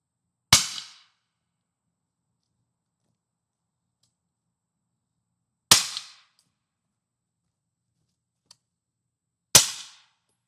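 Three sharp, isolated gunshots ring out from a homemade bolt-action gun built on an AR with AK parts, each a crisp crack with a short tail, separated by long silences.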